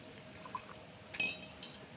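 Water poured lightly into simmering egg curry gravy with coconut, a faint, brief splash and trickle of liquid, quiet and close, with no talking.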